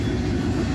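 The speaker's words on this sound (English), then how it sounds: "intermodal train 29G. That is what this is." Norfolk Southern intermodal freight train passing close by, a loud steady low rumble of rolling cars and wheels, heard briefly and alone.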